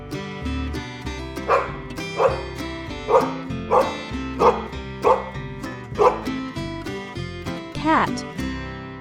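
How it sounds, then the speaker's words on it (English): A farm dog barks in a steady series of about nine evenly spaced woofs over a bed of music, loud and close, ending with a rising yelp. "Dog."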